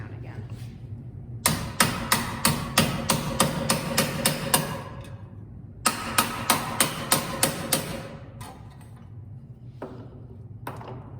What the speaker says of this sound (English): and then I'll go hammer it down again.